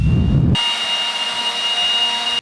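Milwaukee cordless leaf blower switched on after a short, muffled bump, then a steady, close, high-pitched whine from the motor and fan for about two seconds before it cuts off abruptly.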